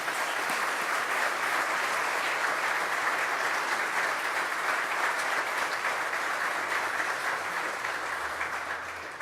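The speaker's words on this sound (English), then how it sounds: "So let's give him a round of applause for that." Sustained applause from an audience at a New York State Court of Appeals event, a dense, even wash of clapping that holds steady for several seconds before easing slightly at the end.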